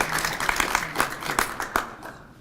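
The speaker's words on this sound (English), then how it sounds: "So give a round of applause" Scattered applause breaks out for the late Hank Williams at a Section 8 Hall of Fame press conference, a small crowd clapping unevenly nearby for a couple of seconds before it tapers off.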